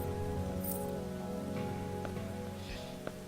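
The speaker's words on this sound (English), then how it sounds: "I love this rain." Rain from the game Starbound falls steadily as a soft constant patter, mixed under sustained tonal music and ambient game sounds, with a couple of faint clicks near the end.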